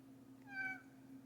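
A cat gives a single short, faint meow, tonal and rising, in a quiet indoor room with a low steady hum behind it.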